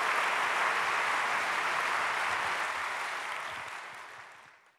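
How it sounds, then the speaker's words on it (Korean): An audience in a church prayer service applauds to welcome a pastor to the front, a broad, even clapping that holds steady and then fades away near the end. "목사님 나오실 때 박수로 저희들 한번 환영하겠습니다"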